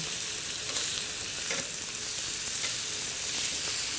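Bone-in teriyaki chicken pieces sizzle steadily on a barbecue grill, a continuous close, fairly loud crackling hiss with small pops and no voices.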